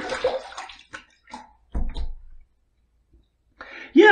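A Gillette Labs cartridge razor rinsed under running water after a shave, with short splashing bursts of water separated by quiet gaps, close by.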